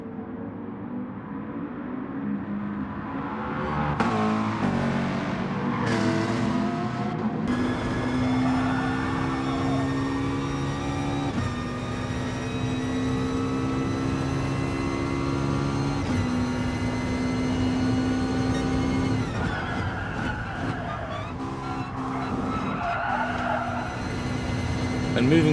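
Race cars in GT Sport, a Manufacturer Series online race, with loud continuous engine drones shifting pitch as cars accelerate and brake hard, plus tire squeal, all close and sustained without letup.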